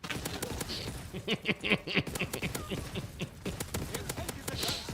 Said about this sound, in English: This game was best known at launch for an outrageous amount of Dragon's Breath shotgun spam.